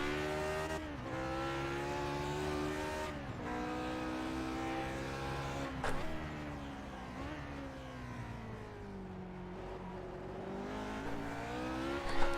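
Lotus 49 race car in iRacing, its engine screaming loud and close through repeated upshifts and downshifts, pitch climbing and dropping with occasional brief tire squeal.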